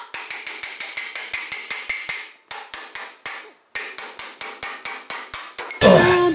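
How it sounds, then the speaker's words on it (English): Steady, ringing metal blows from a combination wrench-hammer on a 1951 Ford F1, about two per second with a short pause midway, close and sharp, ending in a brief clattering rattle. "I have these sweet wrench hammer combos work really well"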